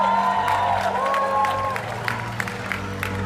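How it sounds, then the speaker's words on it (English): Theater crowd at a Star Wars screening during Star Wars Celebration in Anaheim, cheering and applauding loudly and continuously, with scattered whoops over a dense wash of clapping and some tonal sound underneath. "the whole room cheered and applauded"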